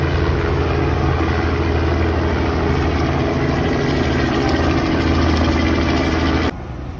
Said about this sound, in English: we've got helicopters flying in and out